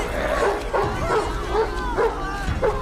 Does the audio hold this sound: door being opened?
no